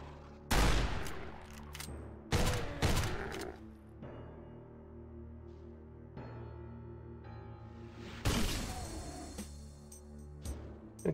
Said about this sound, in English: maybe I should use the shotgun a little bit more